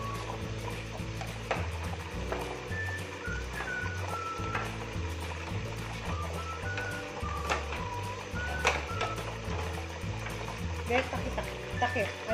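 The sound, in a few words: potatoes frying in splattering oil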